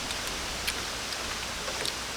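Light rain falls steadily in a forest, a soft even hiss with occasional faint drips standing out, quiet and continuous with no talking.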